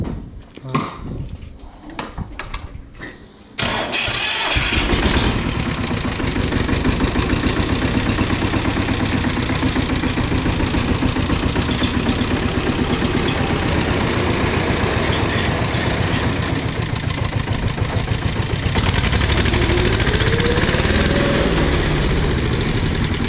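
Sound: Yağmur 510 tractor engine started and idling

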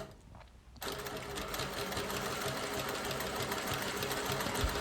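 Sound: sewing machine stitching a basket handle

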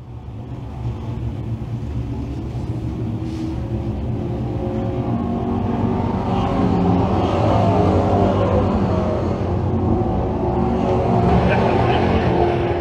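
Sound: pro stock race cars racing on speedway

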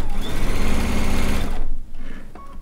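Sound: sewing machine stitching quilt seams, strip piecing

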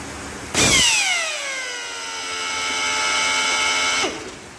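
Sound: pneumatic drilling machine

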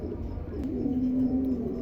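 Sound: pigeons cooing

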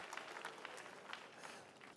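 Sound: church congregation applauding

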